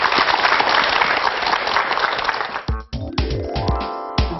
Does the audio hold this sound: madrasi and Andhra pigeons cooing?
no